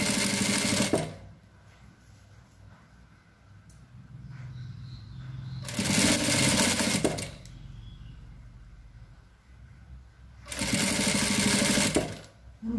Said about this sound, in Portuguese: Vamos estar costurando certinho, ó.